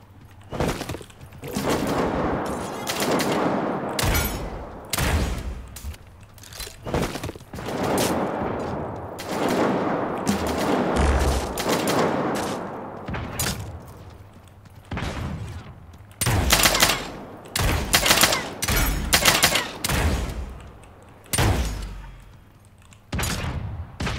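Video game gunfire in repeated bursts and rapid volleys with thuds and impacts, loud and close, broken by brief pauses across the stretch.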